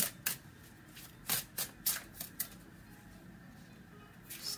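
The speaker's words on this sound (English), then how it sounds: "Can I have three cards here?" Tarot cards being shuffled and drawn by hand, heard as a series of short, crisp riffling bursts with gaps between them, fairly close and alone with no talk.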